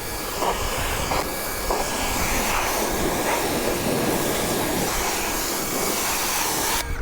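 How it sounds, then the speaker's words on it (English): A pressure washer sprays a car in a Walmart parking lot, a continuous loud hissing rush with slight fluctuations as the jet moves, holding steady throughout. "I'm gonna go ahead and pressure wash this vehicle before they call the cops"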